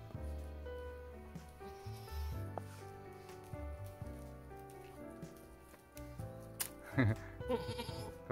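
Goats on a goat farm in Jeongseon bleat in several wavering, drawn-out calls close by, with a louder cluster near the end amid faint background activity.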